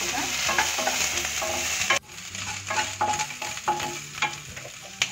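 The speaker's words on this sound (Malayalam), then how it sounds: "ഇനി ഇതിലേക്ക് 1 ടേബിൾ സ്പൂൺ ഇഞ്ചി ഇഞ്ചിയും കൂടി ഒന്ന് ചേർത്തിട്ട് നന്നായിട്ട് മിക്സ് ചെയ്ത് കൊടുക്കാം." Crushed ginger stirred into mutton curry in a pan: a steady sizzle of frying with repeated spoon scrapes and clinks against the pan, close and fairly loud, easing slightly partway through.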